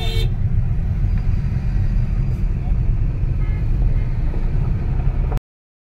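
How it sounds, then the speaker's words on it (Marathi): Heavy road traffic in a jam on the way home from Mumbai, with a steady low engine rumble throughout and a brief horn toot near the start, fairly loud and continuous. "खूप जास्त रस्त्याने ट्रॅफिक आहे"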